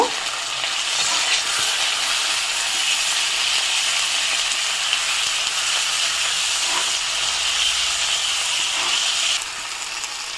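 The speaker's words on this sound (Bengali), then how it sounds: "টমেটোটা দিয়ে একটু ভালো করে ভেজে নেব" Chopped tomato dropped into a pan of potatoes already fried red sizzles and hisses steadily for about ten seconds, a close, even frying sound with faint stirring and no talk, easing off slightly near the end.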